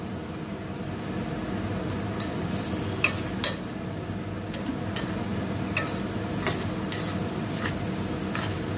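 Spice masala with tomato, red chilli, coriander and cumin powder fries in a pan for hilsa malaikari, giving a steady low sizzle broken by scattered clinks of a spoon stirring against the pan.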